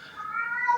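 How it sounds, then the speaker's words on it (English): A single short, rising meow from a cat, fairly quiet and close, with nothing else around it. "that's my cat. Very annoying"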